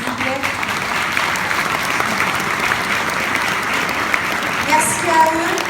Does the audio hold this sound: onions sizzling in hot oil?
no